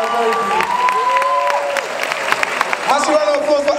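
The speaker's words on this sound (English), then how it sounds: "So I think she deserves a big, massive round of applause for her baby." Audience at the Miss West Africa 2009 pageant's evening wear round breaks into loud, sustained applause and cheering that fills the hall, with the host's voice and music tones running over it.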